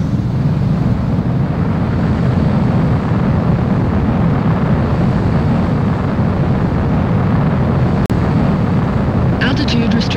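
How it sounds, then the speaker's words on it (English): A fighter jet in the video game Ace Combat 4 roars steadily on takeoff, a loud continuous engine rumble and rush that holds throughout, with a brief click near the end. "Mobius 1, you are cleared for takeoff."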